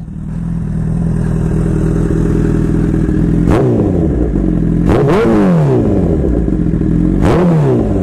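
A Honda CBR 1000 motorcycle engine idles with a loud, steady low rumble up close, broken by three sharp throttle blips that rise and fall quickly.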